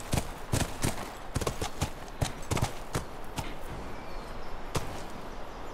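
Horse hooves clip-clopping in the video game The Last of Us, a series of sharp, irregular hoof strikes at close range over a low ambient background.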